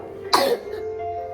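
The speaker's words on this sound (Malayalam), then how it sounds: "നല്ല ചുമയുണ്ട് കേട്ടോ" A person who is unwell gives a single sharp, close cough, followed by a brief rasp and a quiet tail.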